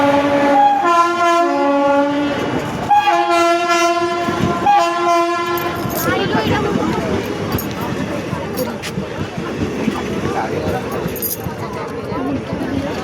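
A passenger train on a trip to Puri, opening with long sustained horn blasts before settling into a continuous rolling rumble and clatter of the wheels on the rails, with voices talking over it.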